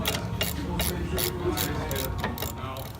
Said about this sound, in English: Then we'll do the second bolt on the bracket for the caliper